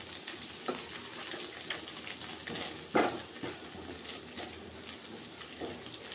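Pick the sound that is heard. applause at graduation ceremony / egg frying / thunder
egg frying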